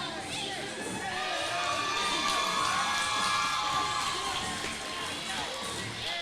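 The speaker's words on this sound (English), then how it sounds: "This crowd goes crazy." A wrestling show crowd roars steadily, dense cheering with shouts and whoops that holds loud for several seconds with no clear speech over it.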